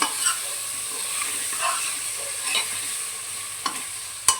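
Chopped tomatoes stirred into fried spices and onion in a pan for kadhi, a steady low sizzle with soft scraping strokes and a couple of sharp utensil taps near the end, no talk.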